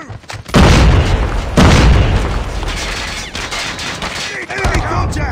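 In the Call of Duty video game, a frag grenade detonates with a heavy boom, a second blast follows about a second later, and rattling gunfire and debris noise then continue under the din.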